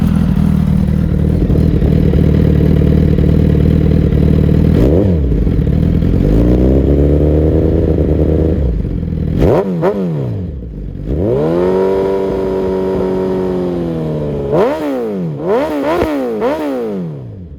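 A 2009 Suzuki Hayabusa GSX1300R with a 300mm wide-tire kit idles loudly, then its engine is revved several times in sharp rising and falling bursts, close to the microphone with no talking.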